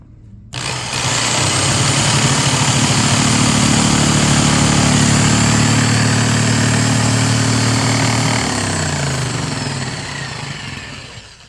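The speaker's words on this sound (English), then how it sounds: "So moving forward, we'll just do this jigsaw" A jigsaw cuts through an arcade cabinet side panel, its motor holding a loud, steady buzzing whine for about ten seconds before winding down near the end, with no voices.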